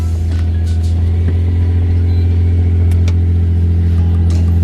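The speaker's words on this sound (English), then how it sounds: "Let me just start the car so we can let it warm up a little bit though." A Nissan G35 engine idles after a cold start while warming up, a loud, steady low rumble with a constant hum and no revving, close by, with no voices.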